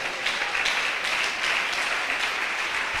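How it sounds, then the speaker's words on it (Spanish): Church congregation applauding during a sermon, a steady wash of many hands clapping together at moderate loudness, with no voices standing out. "¿Por qué no le das un aplauso al Señor?"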